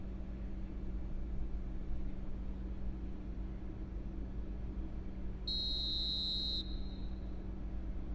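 A single shrill referee whistle blast of about a second in the PES 2021 football game, over a low steady crowd hum.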